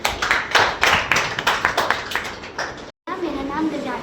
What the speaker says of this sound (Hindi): एक बार ताली